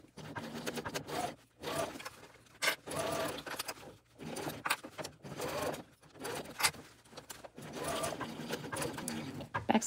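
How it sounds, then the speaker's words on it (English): A sewing machine stitches across the bottom corner of a tote bag at three-eighths of an inch in a series of short, choppy bursts with brief stops, fairly close and moderately loud. "we're going to sew along this bottom corner at 3/8 of an inch, working to keep it nice and flat"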